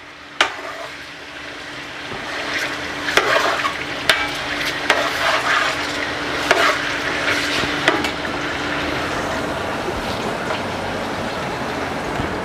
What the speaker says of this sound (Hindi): तो सबसे पहले मैं इसमें डालूँगा बीफ। और इसको मैं अच्छी तरह भूनूंगा, फ्राई करूंगा।